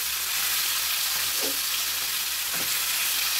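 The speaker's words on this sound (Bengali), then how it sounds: "এই দেখো ভোলা মাছ ভাজা হচ্ছে" Bhola fish fries in hot oil with a steady, close hiss and crackle of sizzling, broken by a couple of soft stirring knocks in the pan.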